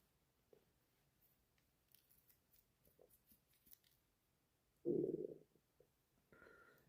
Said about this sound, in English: this is Vegan Patriot's stomach growl script